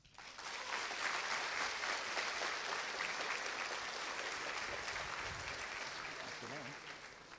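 An audience at a university faculty welcome address applauds steadily, with dense clapping that swells in quickly, holds for several seconds, and then slowly tapers off.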